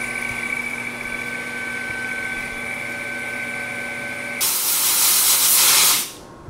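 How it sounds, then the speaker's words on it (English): A PM 1640TL metal lathe hums with steady tones during cutting, then coolant bursts on in a loud, broad spraying hiss for almost two seconds before cutting off. "Get a little coolant going,"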